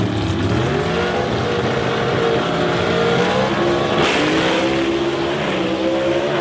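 A 1961 Corvette with a big block Performance Automotive race engine roars loud and close during a drag race at Knoxville, its revs climbing in steady harmonic sweeps with a brief shift dip midway.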